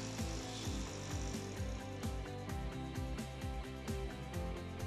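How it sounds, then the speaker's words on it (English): A woodturning tool from a Robert Sorby 67HS six-piece set is rolled against a bench grinder's abrasive, producing a steady grinding hum with rapid, regular rasping pulses, close and continuous without speech. "To sharpen on a pro edge or bench grinder, set the platform to 80 degrees. Place the tool on the platform and present one side to the abrasive"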